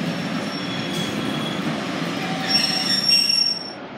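Passenger train 144020 from Sheffield via Barnsley pulls into Huddersfield station, a loud close rumble of wheels on rail with high metallic squealing brakes rising toward the end.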